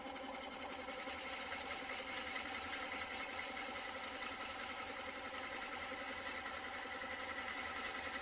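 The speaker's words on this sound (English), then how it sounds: "So it seems like I'm cutting pretty slow, but you got to remember I'm turning at 320 RPM right now." A wood lathe fitted with a Vicmarc oval device runs at 320 RPM, giving a faint, steady mechanical hum and whir with a fine rapid flutter, unchanging throughout.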